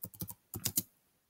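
Keys tapped on a computer keyboard while working in a digital collage editor, a quick run of three clicks, a short pause, then three more close, fairly soft strokes.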